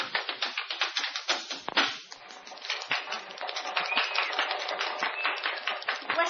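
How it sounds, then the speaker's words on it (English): An audience claps for a performer in a steady, dense patter of many hands, fairly close and continuous without any voices. "You heard them clap for her."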